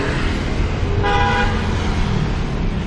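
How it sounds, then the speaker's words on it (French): Street traffic in Saigon, Vietnam rumbles close by as a car horn toots once before turning, a short bright honk cutting through the steady road noise. "les gens ils klaxonnent pour prévenir qu'ils vont tourner"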